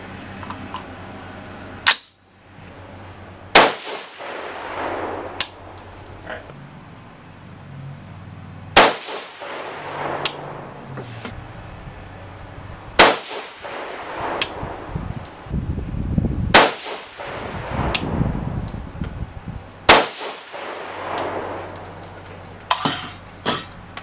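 Rifle shots from a 6.5 Grendel firing Hornady 123-grain BTHP ammunition, about eight sharp, loud cracks spaced a few seconds apart, each followed by brief ringing and small metallic clatter, with no voices.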